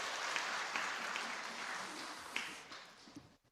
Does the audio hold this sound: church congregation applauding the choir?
yes